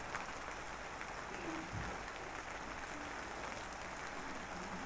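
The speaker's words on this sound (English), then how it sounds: "It's raining." Steady rain pours down in an outdoor scene in Kenya, a dense, continuous hiss that stays even and close throughout with no voices.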